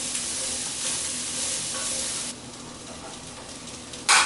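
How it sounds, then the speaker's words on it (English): Vegetables sauté in steak juices in a hot pan, a steady close sizzle and crackle of frying that softens partway through, then a brief louder burst of hiss at the very end. "It's going to saute in those juices that the meat was cooking in"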